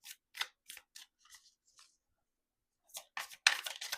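Thick tarot cards are shuffled, a run of crisp riffling bursts up close, pausing briefly before a louder flurry of card flicks at the end.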